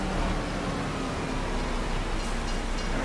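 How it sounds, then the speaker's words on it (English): A train passes in the farming game Farming Simulator 25, a steady broadband rumble with a low drone and a faint tonal hum, loud and continuous throughout with no talk. "Oh, train."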